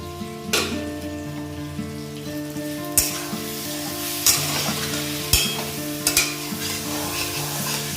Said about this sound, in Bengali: আলুগুলো ভালোভাবে মশলার সাথে ভেজে নেওয়া হয়েছে